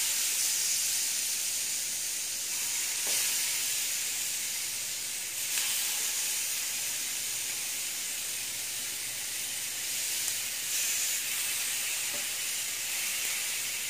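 Chicken sizzles on a lightly oiled grill plate over medium heat, a steady bright hiss with faint pops and crackles, continuous and fairly close, with no talking.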